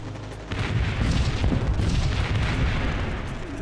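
A massed artillery barrage from thousands of guns in a desert tank battle. A low, continuous rumble of overlapping booms swells in after a brief pause and holds heavy and dense throughout.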